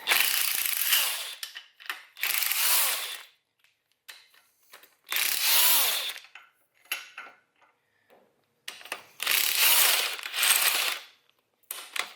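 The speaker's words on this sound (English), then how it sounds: "I'll go ahead and get these caps off" Ratchet work removing the caps from a Ford 8.8 rear axle, heard as several bursts of rapid metallic clicking and rattling, each a second or two long, with quieter clinks and pauses in between; no voices.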